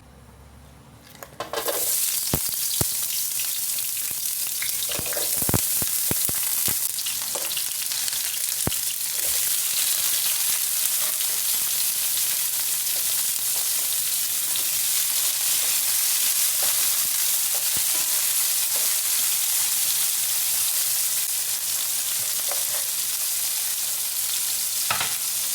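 Cooking oil sizzling steadily and loudly in a pan while mung beans cook with squash and shrimp in coconut milk, a continuous frying hiss with occasional stirring clicks.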